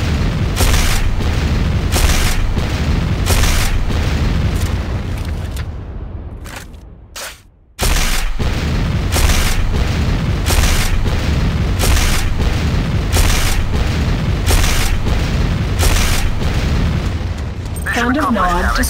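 A C4 charge detonates in the Command & Conquer Renegade game, with booming blasts and dense explosive rumble filling the clip and a brief near-silent gap midway before the loud roar resumes.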